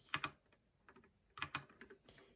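Keys clack on a GK61v2 mechanical keyboard in short clusters of sharp, close presses with brief pauses between bursts.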